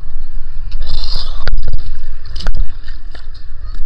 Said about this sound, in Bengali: এই দেখেন স্পিড বোট